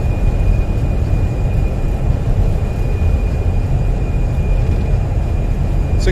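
Airbus thrust reversers roaring during a landing in Microsoft Flight Simulator: a loud, steady, broadband jet rush that holds for the whole stretch without easing.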